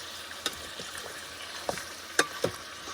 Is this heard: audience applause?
no